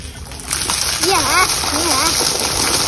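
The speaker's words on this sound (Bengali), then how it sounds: "ঝর্ণা ঝর্ণা পড়ছে" Heavy rainwater pours down from a flooded rooftop like a waterfall, a loud continuous splashing rush close by, with voices talking over it.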